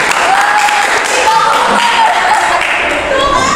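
Loud, dense clapping from a group of people during a werewolf party game, steady for several seconds with faint voices mixed in.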